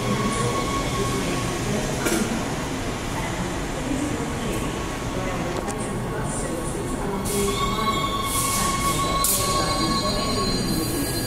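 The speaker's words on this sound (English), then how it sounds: "Never seen a train come this way before." A six-car train in Perth rumbles steadily close by, with high metallic squeals from the wheels rising toward the end as it rolls into the station.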